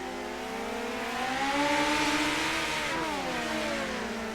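Race cars circling a speedway at a Tulsa summer series finale, a sustained multi-engine roar with pitch rising and falling as cars pass, loud and continuous without talk.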